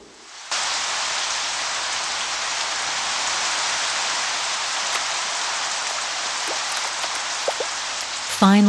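A long-awaited downpour after months of drought, with steady, loud, dense rain that starts abruptly and continues evenly throughout.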